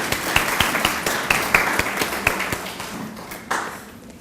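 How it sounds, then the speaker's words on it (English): Graduation audience applauding together, a fairly close, steady patter of many clapping hands with a few sharper individual claps standing out, easing toward the end. "I think they deserve a round of applause"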